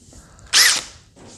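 A power drill bores out a pop rivet on the back of a lockable box, a single short high-pitched whirring burst lasting about a quarter second, close and loud against a quiet background.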